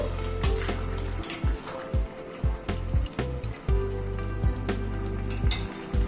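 Papaya and lentil curry boiling in a pot, bubbling and sizzling steadily with repeated low stirring knocks and scrapes, close and alone without talk.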